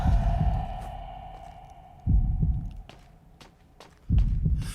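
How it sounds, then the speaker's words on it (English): Heartbeat noise from a horror video game throbs in heavy, low double thuds that repeat about every two seconds over a steady droning hum, with faint ticking and clicks between beats. "the annoying, atrocious heartbeat noise now just sounds like it could be part of the game's sudden horror background"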